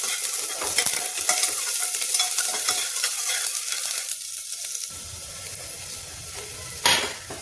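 Garlic and onion frying for dhuska sizzle loudly and steadily in hot oil, with stirring scrapes; the sizzle drops to a softer hiss about two-thirds through, followed by a brief sharp burst near the end.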